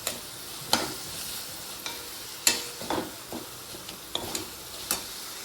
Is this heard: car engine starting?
no